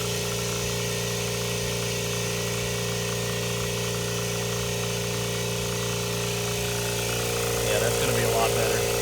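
A Kobalt 26-gallon air compressor runs steadily with a constant motor drone and hum, close and fairly loud, with a brief rattle near the end and no one talking over it.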